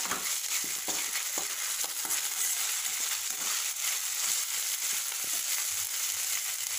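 Ginger garlic paste sautéing with broccoli masala in a pan makes a steady hiss of sizzle, broken by light taps and scrapes of stirring, with no voices.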